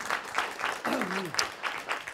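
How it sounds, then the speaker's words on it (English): Workshop audience applause, a soft, steady patter of many hands clapping at some distance, with a voice briefly heard over it midway. "just an applause for Camilo and Ilka"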